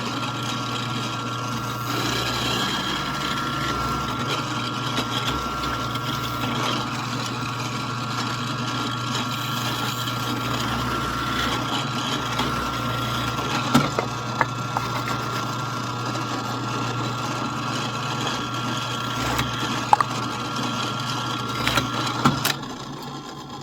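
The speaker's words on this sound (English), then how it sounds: "you have to drill some holes in the wheels" Power drill boring holes in wooden wheels for a Flintstone-style motorcycle build, a steady close motor whine running for over twenty seconds with a few brief clicks and knocks near the end.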